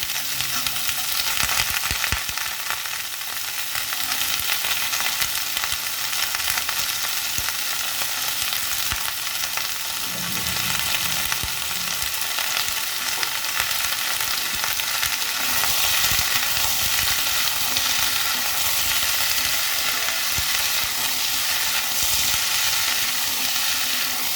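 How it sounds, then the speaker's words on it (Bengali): Vegetables and green peas for a murighonto fry in a pan with a dense, continuous sizzle, broken by occasional scrapes and soft knocks of stirring, close-up and steady throughout with no speech. "সবজিটা বেশ ভাজা হয়েছে"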